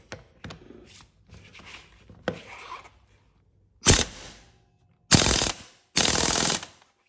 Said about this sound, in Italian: poi prendiamo la pistola pneumatica e stringiamo